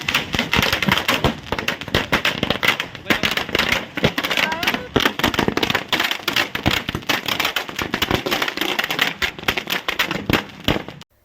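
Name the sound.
firecrackers set off by BJP workers celebrating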